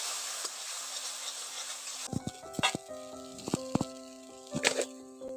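Tomato paste sizzles in hot oil and spices, starting with a bright steady hiss that drops away into softer crackles, with scattered clinks and scrapes of stirring close by.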